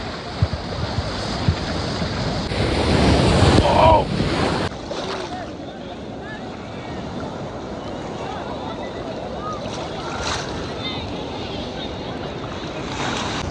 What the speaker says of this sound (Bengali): ঢেউ, সেই ঢেউ।